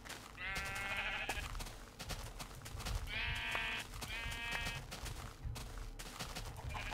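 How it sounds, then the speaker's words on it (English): Sheep in Minecraft bleat several times in wavering calls over a dense bed of game noise and clicks, fairly clear and near, with no speech. "there's a lot of sheep over here."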